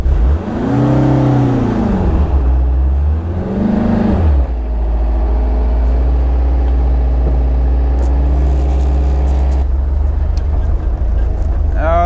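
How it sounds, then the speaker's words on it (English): A Porsche 914 race car pulls away and drives around the block, its engine revving up twice in rising sweeps before settling into a steady, close, loud running hum with some faint background sounds. "We are gonna take a car around the block and see how it runs."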